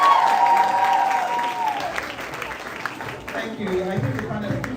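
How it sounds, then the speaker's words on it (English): Audience applause at a youth summit swells for the Vice Chancellor of Pan Atlantic University, with a voice speaking over the clapping, which continues steadily throughout. "Please, a round of applause for the Vice Chancellor of Pan Atlantic University."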